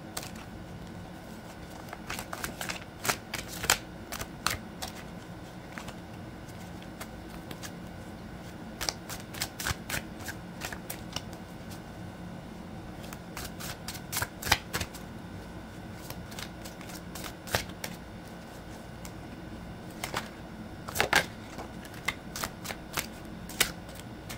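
Tarot cards being shuffled again and again, with clusters of rapid crisp flicking and riffling separated by softer handling, close and steady throughout.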